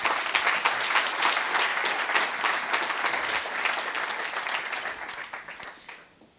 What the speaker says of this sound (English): please give some applause to the organizers.